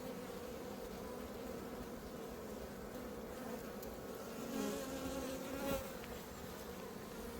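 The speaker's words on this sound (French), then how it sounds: "Animées mais pas agressives du tout parce qu'elles ne vont pas dessus et elles vont retourner de nouveau sur les larves." Honeybees buzz steadily and densely around a brood frame of a wild-swarm hive during an apiary inspection, a close, continuous drone with a few brief louder swells as individual bees pass near.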